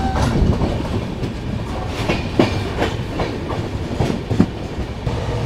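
Mumbai CSMT - Howrah AC Duronto Express running through a station, heard from on board as a steady rumble with irregular clicks and clacks of wheels over rail joints, no voices.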